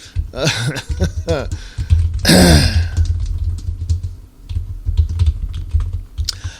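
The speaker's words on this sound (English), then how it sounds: "I'm typing." Computer keyboard typing during a podcast, a quick patter of key clicks mixed with speech and low background hum, fairly close and moderately loud.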